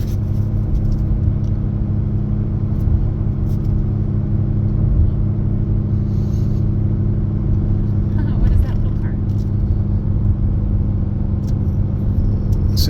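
Ram 3500 pickup truck towing a 12,000 lb load up Colorado mountain roads at about 55 mph: a steady, loud low engine drone and road rumble fill the cab throughout, with someone talking over it.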